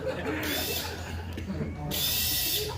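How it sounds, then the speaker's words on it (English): An electric drill whirs in two loud bursts, near and harsh, with a short lull between them and some muffled voices around it. "an electric drill"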